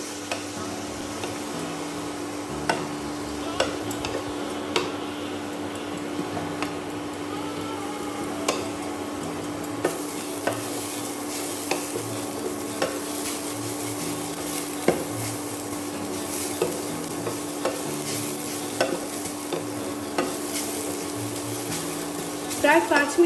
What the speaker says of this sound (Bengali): গাজরটাকে আমি ভেজে নেব